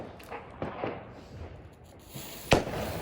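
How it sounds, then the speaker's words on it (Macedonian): New Year fireworks outdoors: a few scattered pops and crackles, with one sharp, loud bang near the end standing out over a faint background. "Малце да ви снимам првите огномети."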